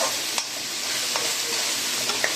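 Ginger garlic paste with spices, mint and coriander being stirred and sautéed in a pan for a mutton dish: a steady, close frying sizzle broken by a few sharp scraping clicks of the spoon, with no talk.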